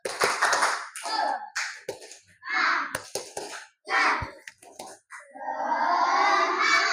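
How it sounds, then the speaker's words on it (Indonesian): Children in a classroom perform a rhythmic spirit clap, short bursts of group clapping and chanting alternating with a teacher's voice, ending in a sustained wash of applause and crowd noise. "Tepuk semangat."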